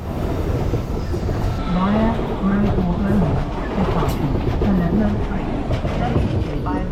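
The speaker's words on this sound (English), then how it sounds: "Finally, we saw two short formations of the ICE4 running coupled together." Two short ICE4 trainsets coupled together run past with a loud, steady rail rumble and clatter, while a voice speaks over the passing noise.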